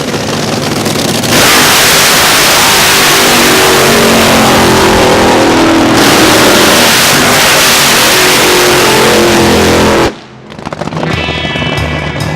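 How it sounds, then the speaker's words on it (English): Street-legal drag racing cars at Roadkill Nights on Woodward, with a very loud sustained engine roar that runs unbroken for about ten seconds, then cuts off abruptly before a quieter engine idles and rumbles nearby. "Street legal drag racing on Woodward."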